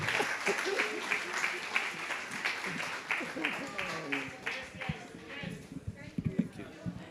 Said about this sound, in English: Can we clap yourselves and members of the panel?